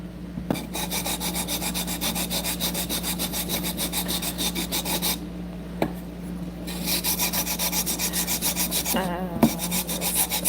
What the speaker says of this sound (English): when you're doing any sort of grinding on enamel, you want to make sure that you're doing it wet.